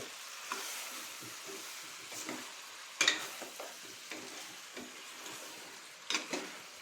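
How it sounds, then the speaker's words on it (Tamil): Country chicken curry being stirred in a pot, a steady low sizzle of frying oil with soft scraping strokes and two sharper clanks of the spoon against the pot, close and moderately quiet with no talking. "நல்லா கிளறி விட்டுக்கலாம் மக்கள்"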